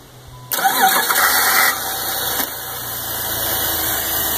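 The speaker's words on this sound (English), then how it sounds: "Start the engine." A car engine cranks and fires up about half a second in, while someone checks the transmission fluid during routine DIY car care. It roars briefly, then settles into a steady idle close by.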